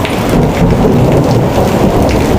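Heavy rain pours down hard with rolling thunder during a fishing trip after snakehead fish, a loud, dense, continuous hiss and rumble close by with no voices over it.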